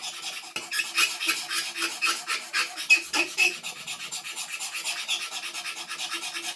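A carbon steel Aurillac knife blade rasps steadily over a sharpening stone in quick, repeated back-and-forth strokes, close and fairly loud with no voices.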